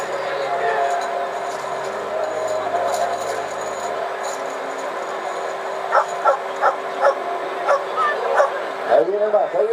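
A dog yips and barks in a quick run of short, close, high-pitched barks, with a whimper at the end. People talk throughout.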